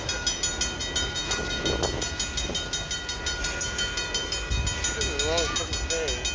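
A long BNSF freight train rolls steadily past, its continuous rumble and wheel noise filling the scene at close range, with brief bursts of voices mixed in.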